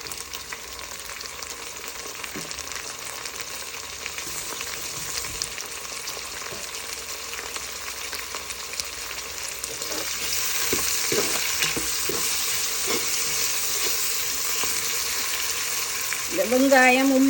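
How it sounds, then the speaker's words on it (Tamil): Onion, garlic and chopped tomatoes sauté in a pan with a steady soft sizzle and occasional stirring scrapes, growing denser and louder in the second half. Faint voices murmur beneath. "வெங்காயம், உள்ளியில் இருக்கிற பச்சை வாசம் போகும் மட்டும் நல்லா வதக்க இந்த தக்காளி பழம் எல்லாம் நல்லா மசிஞ்சு வந்துடும்."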